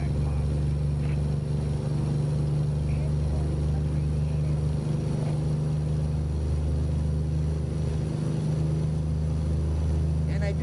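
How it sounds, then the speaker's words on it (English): Truck engine in American Truck Simulator droning steadily with a deep, constant rumble and tonal hum, loud and close throughout. "probably due to the sound of the engine"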